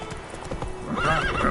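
Geralt's horse Roach in The Witcher 3 gives a short whinny over a few clopping hoofbeats, close and clear, ending in a rising neigh.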